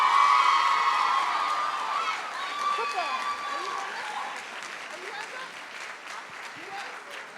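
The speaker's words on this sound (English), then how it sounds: "we just want to give her one more round of applause" Audience at a high school fall sports awards night applauding, a loud burst of crowd clapping with cheers and whoops that gradually tapers, with some voices talking underneath.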